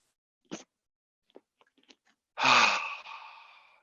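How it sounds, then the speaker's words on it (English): A long, deep exhale during yoga breathing in a vinyasa class, a breathy release of about a second after a few faint small rustles and clicks, close and quiet. "And exhale, let the breath go."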